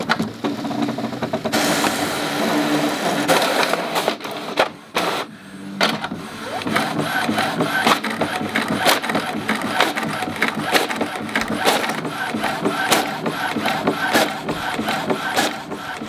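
An Epson ET-8500 inkjet printer running a double-sided print job, its mechanism whirring, clicking and rattling steadily up close for the whole stretch with brief pauses in between and no talking.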